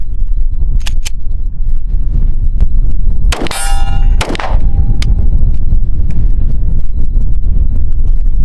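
Smith & Wesson pistol shots at an outdoor range ring off steel targets, with a loud metallic clang and ringing ding followed by a cluster of sharp impacts over constant wind-like background noise.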